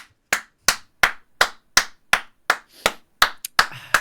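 A single pair of hands clapping close by, about eleven sharp, evenly spaced claps at a steady rhythm, with no other sound between them.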